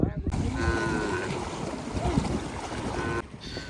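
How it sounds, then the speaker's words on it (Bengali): A boat engine drones steadily through wind noise on a river char while cattle are herded home after grazing, with a cow lowing faintly somewhere in the background. "গরুগুলো ফিরছে ঘরে ঘরে ঘাস খাওয়ানো শেষে নৌকা নিয়ে এই গরুগুলোকে তাড়িয়ে আনছে"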